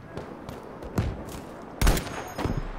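Mortar fire landing in a combat video game, heard as several punchy explosive thumps spaced out, the loudest burst near the end, alone over rumbling background ambience.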